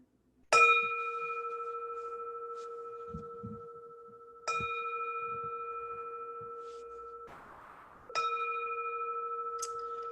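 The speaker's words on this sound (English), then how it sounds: "Let's ring the gong here." A meditation gong struck three times at a Buddhist dharma gathering for compassion practice, each stroke ringing out clearly and decaying slowly in a quiet room before the next.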